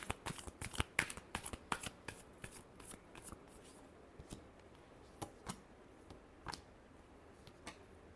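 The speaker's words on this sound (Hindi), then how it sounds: "Last shuffle." Tarot cards are shuffled by hand, a quick run of crisp riffling snaps that slows into sparser, fainter flicks, close and quiet with no voices.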